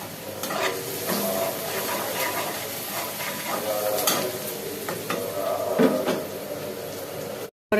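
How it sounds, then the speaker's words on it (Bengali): Onions sizzling in a pan for biryani while being stirred, a continuous loud frying hiss with repeated scraping strokes of a spoon, close by, with a brief dropout near the end. "পেঁয়াজটাকে নাড়াচাড়া দিই"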